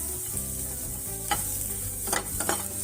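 Onion, ginger, garlic and chili dry-frying in a pan without oil over low heat, a soft steady sizzle with a few scraping stirs and clinks standing out, close and alone with no voices.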